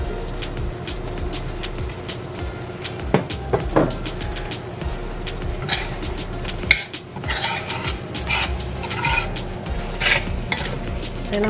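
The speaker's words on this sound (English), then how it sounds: "Now I'm going to add the potatoes and the eggplant." Potatoes and eggplant go into a curry pot, with stirring, scraping and clattering against the pot over a steady sizzle and a low background hum, without any talk.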